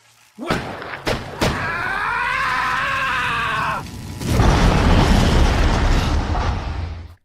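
On-screen gunfire in a Spider-Man film as Aunt May shoots Electro: a few sharp, loud bangs close together, then a long electric whine and a heavy roaring blast that fills the rest of the scene.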